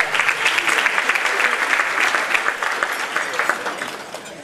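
Sustained applause from an audience at a women's awards event, a dense steady clapping that fades slightly toward the end.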